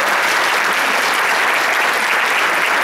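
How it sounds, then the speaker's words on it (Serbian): Audience applause at a business gathering, dense loud clapping from a large crowd that holds steady for the whole span with no voices over it. "aplauz za njih veliki"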